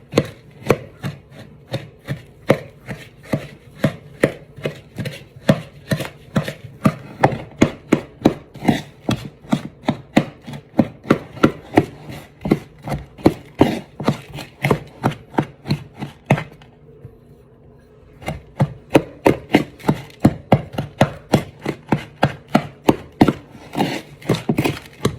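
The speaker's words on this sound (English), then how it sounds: "I'm just gonna separate the clumps and mix it into my" Hands mix butter clumps into streusel topping for apple crisp, making a steady, rapid rhythm of close rubbing and crumbling strokes that continues for a long stretch, pausing once briefly before resuming.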